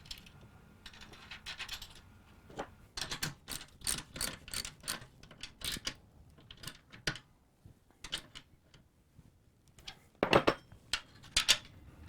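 Bolts are tightened on a sewing machine table with a wrench or ratchet, giving irregular close metallic clicks and ratcheting ticks in short bursts over a quiet room, with no talk.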